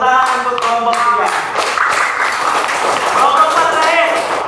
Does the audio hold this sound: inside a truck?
no